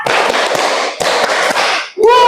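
Students in a classroom clap in a rhythmic chant pattern, two loud bursts of many hands with sharp accented strikes inside each, followed by a brief voice at the end.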